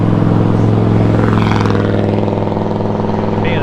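A car drives past on a road near a cyclist riding an e-bike, a steady engine drone with tyre rumble lasting throughout, fairly loud and close, with wind buffeting on top.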